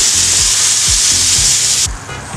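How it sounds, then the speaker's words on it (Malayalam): Water hits frying chicken pickle masala in a pan, setting off a loud, steady hiss with rhythmic scraping stirs underneath, close up, before the sizzle abruptly drops away near the end. "ആ വെള്ളം കൂടെ ഒന്ന് ഒഴിച്ചു"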